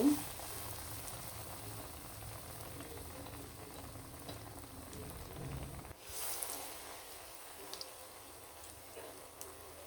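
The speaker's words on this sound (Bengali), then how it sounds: "এইভাবে ভেসনে ডুবিয়ে কিন্তু এভাবে তেলে ছেড়ে দিব" Besan batter-dipped potato chops dropped into hot oil, a faint, steady bubbling sizzle with a small splash at the start and a shift in texture midway, quiet and close.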